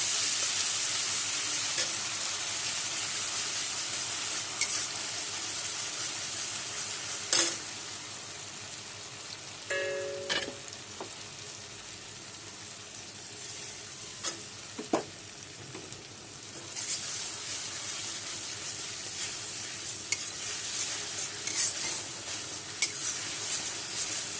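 Rui fish masala sautés in a pan with a continuous loud sizzle, broken now and then by brief clicks and scrapes of stirring.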